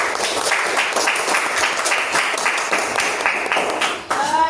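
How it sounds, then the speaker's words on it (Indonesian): A classroom group applauds together at the end of a lesson, dense steady clapping close by with a voice breaking in near the end. "Tepuk tangan dulu untuk kita semuanya."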